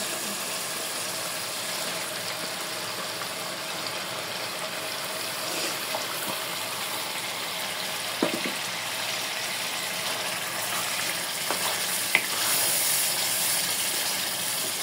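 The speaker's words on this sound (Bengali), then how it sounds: "এই যে মশলাটা একদম পুরোপুরি কষায় নিছি, এখন মাংস দিয়ে দেব" Mutton dropped into fully fried masala for a hotel-style goat curry sets off a steady, broad sizzling hiss that continues evenly throughout, with a few faint clinks and no talking.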